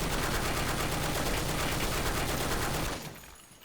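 An NX rifle in Blackshot fires a rapid, sustained automatic burst, loud and close, with evenly spaced shots hammering steadily before cutting off into near silence with a couple of faint clicks.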